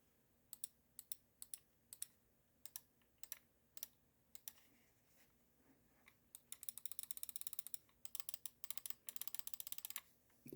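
Mouse button clicks from a Corsair Sabre Pro Wireless gaming mouse modded with GM4 switches, with a hollow spring-tension sound: sparse, sharp, close clicks at first, then rapid bursts of fast repeated clicking, with no voice.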